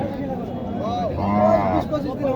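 At a village cattle market in Naogaon, a Sahiwal cow or calf gives one loud, drawn-out moo nearby amid market noise and people talking.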